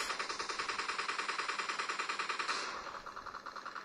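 Rapid automatic fire from a Groza assault rifle in a mobile shooter game, played on a OnePlus Nord 5G: a loud, close, evenly spaced burst of shots that runs continuously for several seconds, then its tone shifts slightly and trails off.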